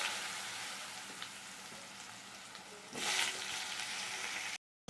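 Cut potatoes fry in hot oil tempered with cumin seeds and bay leaf, a steady close sizzle that flares louder for a moment as they are stirred, then cuts out at the end.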